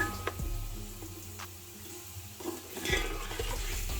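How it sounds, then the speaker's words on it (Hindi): Beef for Lahori bong paye frying in oil in a pot, a soft steady sizzle under occasional scrapes and clinks of a spoon stirring against the metal, close and quiet. "अब में से मैं अच्छे से फ्राई कर लूँगी।"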